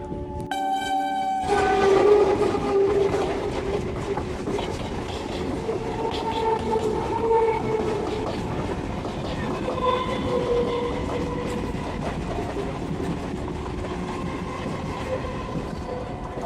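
Local train rolling through a junction station on the Ghutiari Sharif to Sonarpur line, a brief horn blast at the start followed by a steady rumble of wagons and clattering wheels, fairly loud and continuous with no talk.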